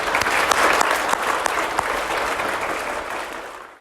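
A room full of people at a primary school presentation day claps steadily for a few seconds for award recipients, then the applause fades out.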